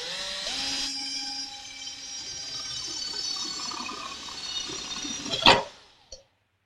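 A power drill with a bit drills holes, giving a steady whining motor hum that rises in pitch as it starts. It grinds along for several seconds, then ends in a sharp burst and stops.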